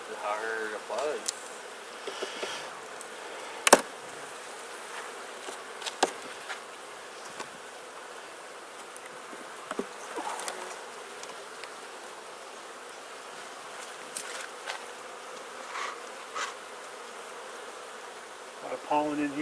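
Honeybees buzz steadily around an open Langstroth hive during an inspection, a soft, continuous drone with faint clicks and brief handling knocks scattered throughout.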